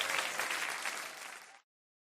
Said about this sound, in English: Those claps were surround sound.